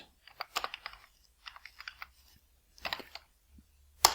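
Keystrokes on a computer keyboard while logging in to a Raspberry Pi, arriving in three quick bursts of close, crisp clicks separated by short pauses, with a sharp final tap at the end and no talking.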